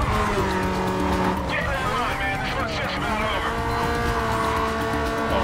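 A Toyota Corolla AE86 in the Need for Speed Carbon racing game runs with a loud, continuous engine note and long stretches of tire squeal as it slides, while someone talks over the game sound.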